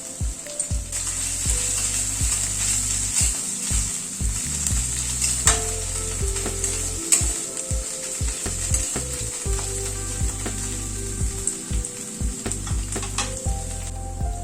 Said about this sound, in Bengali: আদা, রসুন, কাঁচা লঙ্কা পেঁয়াজের সাথে আবারও মিনিট 2 মতো ভেজে নিলাম